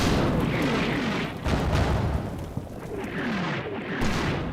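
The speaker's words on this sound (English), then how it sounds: "And the mortars come down. And they come down where the snipers were." Mortar barrage landing in the Combat Mission Shock Force 2 war game: a dense run of heavy, rumbling booms and crumping blasts that roll over one another without pause, loud and close throughout.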